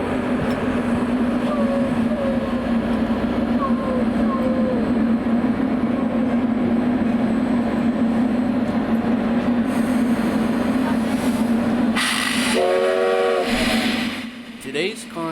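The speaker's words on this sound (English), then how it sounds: "Today's consists included engine 148, 3 passenger cars, and diesel locomotive number 409" US Sugar steam locomotive No. 148, a century-old engine, passes with a continuous loud rolling rumble of wheels and cars, and a train horn blasts in short bursts near the end.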